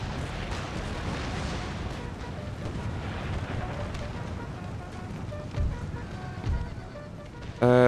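Musket volleys and artillery booms from a large battle in Empire: Total War, a dense, continuous rumble of gunfire with heavier cannon blasts near the end, loud and close, without talk.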